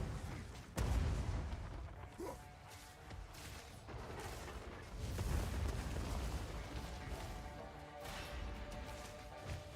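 Explosions and shotgun blasts during a video game boss fight, a chaotic run of sharp bangs and booming bursts spread across the whole stretch, no talk audible.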